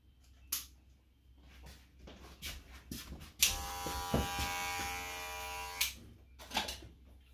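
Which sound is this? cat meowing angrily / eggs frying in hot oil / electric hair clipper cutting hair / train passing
electric hair clipper cutting hair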